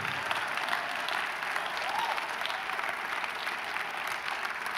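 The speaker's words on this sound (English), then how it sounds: "Can I hear you clap like I'm preaching to you?" Church congregation clapping during a sermon, steady sustained applause from a crowd filling the whole stretch, even and moderately loud with no voices on top.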